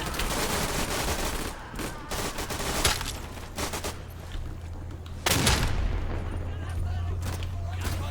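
Gunfire in the World War II shooter Day of Infamy: a busy stretch of rapid shots and bursts, with a loud close crack near the end, set over steady battlefield rumble.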